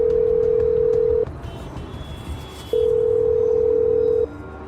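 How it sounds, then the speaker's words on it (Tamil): Telephone ringback tone on an unanswered call, two long steady beeps separated by a pause, loud and close with no other sound. "ஃபோன் அடிச்சு எடுக்க மாட்டான்."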